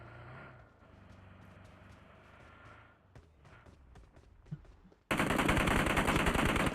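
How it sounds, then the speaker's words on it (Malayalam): Video game gunfire: scattered sharp shots crack at a moderate level, then a sudden, loud, sustained burst of automatic fire dominates the final stretch. "എന്താണ് ഇവിടെ വെടിവെപ്പ്?"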